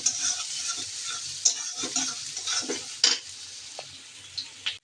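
Onion and green chili fry in a wok, giving a steady close sizzle with scraping spatula strokes and a few sharp metallic clicks throughout.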